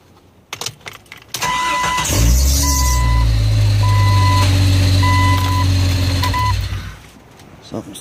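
A Jeep XJ engine cranks briefly, then catches and runs at a loud, steady idle for several seconds, with a regular electronic beep repeating over it before the engine dies away.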